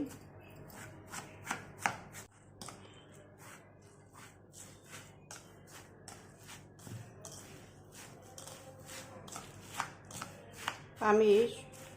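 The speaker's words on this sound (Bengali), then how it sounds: "সেমাইয়ের সাথে এই যে ডিমের লিকুইডটা তৈরি করেছি তা খুব ভালোভাবে মেখে একটা সফট ডো তৈরি করে নিব" Vermicelli (lachha semai) and egg are kneaded by hand into a soft dough, giving a run of soft, rhythmic squishing pats and taps at close range, with a brief scrape near the end.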